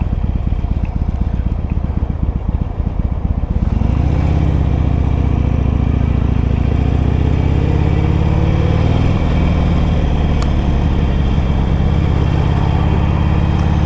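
A motorcycle rides through slow rush-hour traffic, its engine droning steadily and loudly under heavy wind noise, with the pitch shifting as the bike speeds up and eases off.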